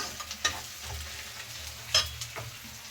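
Onions fry quietly in a pan, giving a soft, steady sizzle with a few sharp scrapes and clicks from stirring. No one speaks.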